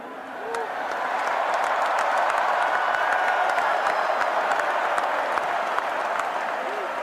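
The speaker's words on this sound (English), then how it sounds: "seeing all these Hoosier fans cheering for you" Indiana Hoosier fans fill a Peach Bowl stadium with sustained applause and cheering, a dense steady roar of clapping crowd that swells early and holds loud throughout, with voices faintly mixed in.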